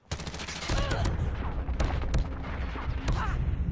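Rapid bursts of video game gunfire crackle loudly and continuously, with sharp repeated shots and a few louder blasts standing out over a dense battle din, with no clear talk.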